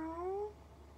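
A single human voice imitates a cat's meow: a drawn-out, rising nasal note lasting about half a second, close and clear, then quiet.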